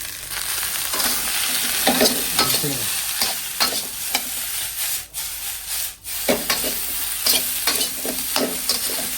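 Garlic fried rice with egg is stir-fried in a hot wok at home, with a constant close sizzle broken by rhythmic scraping and clattering strokes of the spatula and brief pauses between tosses.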